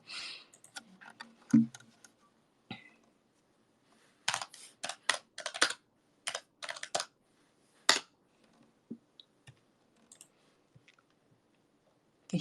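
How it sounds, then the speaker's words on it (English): A finger grinds against a viola fingerboard while the strings are being replaced, giving scattered quiet clicks and scratchy ticks in irregular clusters, close up with no talk. "That's the sound of my finger grinding against the fingerboard."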